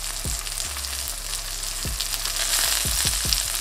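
A lamb smash burger patty sizzles steadily in a hot pan, loud and close, with a few soft thumps or scrapes now and then.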